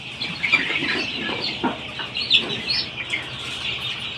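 Month-old Fayoumi chicks on a poultry farm make a dense chorus of high, overlapping peeps and chirps, steady and moderately loud with brief louder calls.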